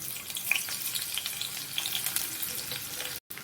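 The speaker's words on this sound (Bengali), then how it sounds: "প্রথমে আমি একটু পেঁয়াজ ভেজে বেরেস্তা করে রেখে নেব।" Onions sizzle and crackle in hot mustard oil with a steady hiss and scattered pops, close up, followed by a brief dropout near the end.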